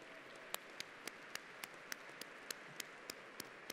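An audience applauds a guitarist at an inauguration event for Padova as European volunteering capital, with sharp, evenly spaced claps standing out over a faint, quiet background.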